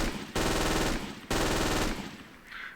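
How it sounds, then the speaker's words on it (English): An MG34 machine gun in a video game firing at 1200 rounds per minute, two loud, dense, rapid bursts close by, each lasting about a second, with a short gap between them and a faint tail afterward. "So it's an MG34, but it fires as fast as an MG42. Let me demonstrate."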